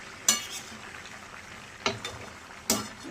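Mutton kosha, about two kilograms of meat, is stirred and fried in a large wok. Three distinct scraping strokes of the spatula cut through a soft, steady sizzle, close up.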